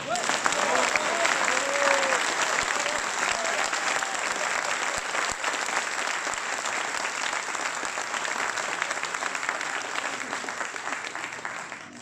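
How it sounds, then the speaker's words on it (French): Sustained applause from an audience at a political meeting in Nantes, dense steady clapping that stays loud throughout, with some crowd murmur mixed in. "je vous demande d'applaudir Jean-Frédéric Poisson"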